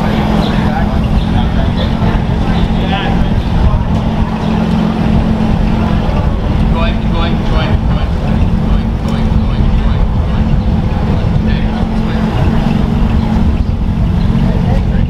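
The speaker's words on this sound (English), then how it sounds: "Oh, cold start. first Artura cold start." A McLaren Artura sports car's engine starts cold with a loud, steady, dense roar that holds throughout, with wind buffeting and people talking over it.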